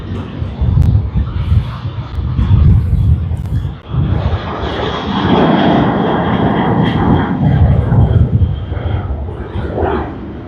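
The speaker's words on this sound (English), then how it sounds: "That was a nice takeoff." A Virgin Australia jet takes off at Sydney Airport on Australia Day, its engines producing a loud, sustained roar that swells and rumbles throughout, heard from nearby on the ground.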